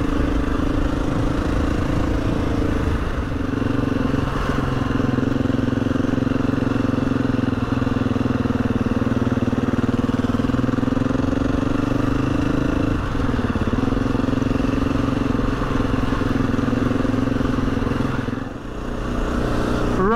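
Husqvarna FE 350 motorcycle riding along with a steady, droning engine note that rises and falls slightly with throttle, loud and close throughout with constant wind and road rumble.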